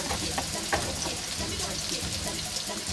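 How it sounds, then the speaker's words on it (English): Onions tipped into a hot pan for healthy sweet and sour chicken, giving a steady close sizzle and frying crackle with light stirring clicks throughout. "I'm going to add my onions first."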